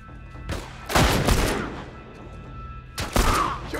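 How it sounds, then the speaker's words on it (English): Gunfire in The Last of Us Part I, with a sniper rifle firing among other shots: two heavy bursts of loud, broadband reports about two seconds apart, each trailing off into a noisy ambient tail. "He's using sniper."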